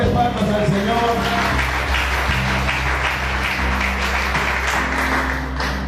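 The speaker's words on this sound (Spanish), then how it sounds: "Denle fuertes palmas al Señor." A church congregation claps loudly in unison, a continuous, even wash of applause with a sustained musical tone underneath and no speech.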